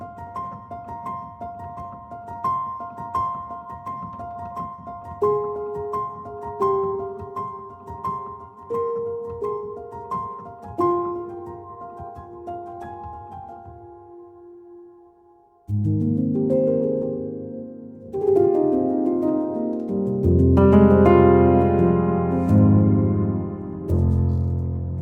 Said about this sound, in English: It's a nice little ambient patch.